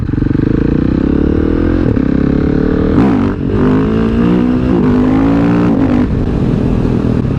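A motorcycle that wheelies easily idles loud and close, then revs in a few short throttle blips around the middle and near the end, engine note rising and falling with no talk.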